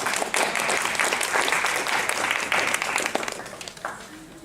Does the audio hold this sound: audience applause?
yes